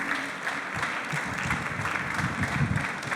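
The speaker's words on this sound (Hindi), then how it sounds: "ताली बजाते रहिए" An audience at a corporate panel discussion claps continuously at moderate volume, a steady patter of many hands without a clear peak or ending.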